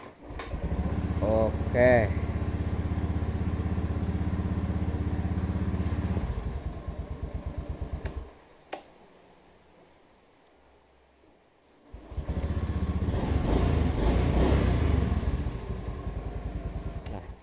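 Honda Beat scooter, which would not electric-start, is kick-started and runs with a loud buzzing engine; it drops out and goes quiet for a few seconds, then fires up again and revs, with someone speaking briefly.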